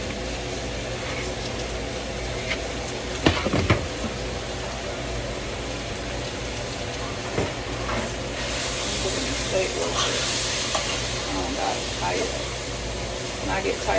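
Egg rolls fry in hot oil, giving a continuous loud hiss and sizzle that grows brighter partway through, with a few sharp pops and clatters along the way.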